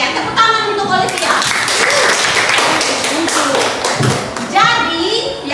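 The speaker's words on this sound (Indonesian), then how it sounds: "Ya, tepuk tangan untuk Olivia" Classroom applause for a student reading aloud, a burst of many hands clapping close by with children's voices chattering underneath, fading briefly before another round of clapping rises at the end.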